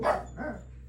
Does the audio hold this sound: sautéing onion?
no